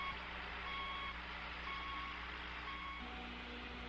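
A motor grader working a gravel road gives off steady reversing beeps over a constant low engine drone, even and moderately distant.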